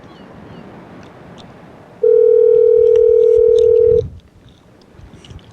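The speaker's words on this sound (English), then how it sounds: "Maybe we should try to call Aviva." A steady telephone dial tone hums loudly for about two seconds over faint background noise, then cuts off abruptly.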